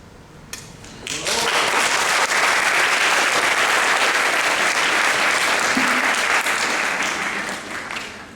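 A crowd bursts into loud, sustained applause that swells quickly and holds steady for several seconds before tapering slightly.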